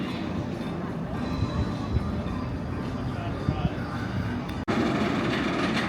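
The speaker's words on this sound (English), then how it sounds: "please remain seated until the train comes to a full and complete stop" A Six Flags amusement park train in St. Louis rumbles along with a steady low clatter, then brakes to a halt with a brief dropout before the noise resumes, while people talk over it.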